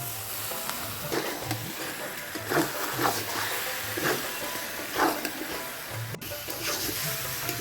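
Onion paste sautéing with chicken in an oil-filled pan for a Bengali chicken curry with green chili paste, a steady soft sizzle with occasional stirring scrapes, fairly quiet and close.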